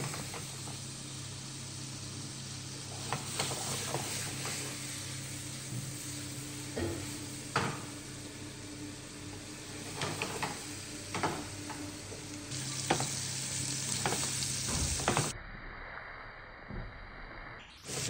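Bele fish sautéing in hot oil over full heat, a loud continuous sizzle and hiss with scattered clicks of stirring, cut short near the end.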